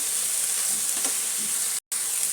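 Steady broadband sizzle of a Bangladeshi egg bhuna masala being stir-fried and reduced in a pan, with faint stirring scrapes, continuous and close, briefly cut to silence near the end.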